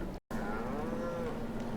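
An Angus cow in the Farming Simulator 25 game lets out a single long, drawn-out moo, close and clear after a brief gap of silence.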